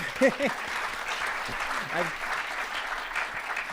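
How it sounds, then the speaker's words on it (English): Audience applause fills a conference keynote hall, steady and moderately loud throughout, with a voice speaking briefly over it near the start and again around the middle. "Big round of applause."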